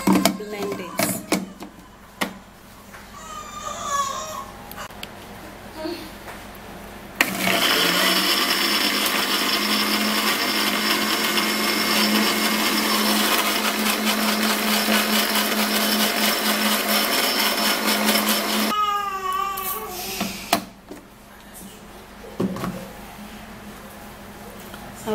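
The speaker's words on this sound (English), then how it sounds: "After you put in the apple cider vinegar, then you'd have to blend it." A kitchen blender whirs loudly for about eleven seconds, blending chopped onion with apple cider vinegar, while a person talks briefly before and after the run.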